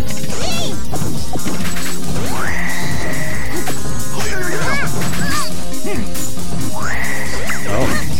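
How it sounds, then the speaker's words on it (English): Forward smash attacks hit in Super Smash Bros, loud crashing impacts arriving one after another, mixed with whooshes and rising electronic tones in busy game audio. "We got F smashes everywhere."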